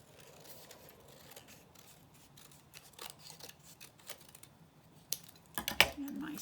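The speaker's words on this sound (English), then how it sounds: "And cut out this other strip." Scissors snip through a paper strip for a fifth-grade art project, a few faint close cuts near the end over quiet room tone, with soft handling rustle before.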